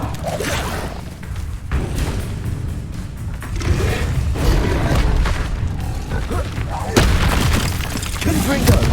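Booming blasts of the Confringo explosion spell in a Harry Potter video game fight against a dragon, with repeated heavy thuds and crashes over a continuous loud din as a voice talks.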